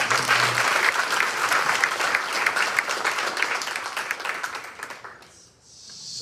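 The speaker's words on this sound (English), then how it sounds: "Give them one more round of applause." An audience at a foster care housing event gives the panelists a round of applause, with dense sustained clapping that gradually thins and fades out near the end.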